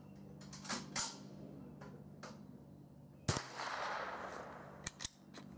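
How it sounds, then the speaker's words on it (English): A Keystone Sporting Arms Model 722 .22LR rifle fires a single sharp crack at an outdoor target session, brief and moderately loud against quiet background with scattered small clicks and rustles. "I'll shoot one more."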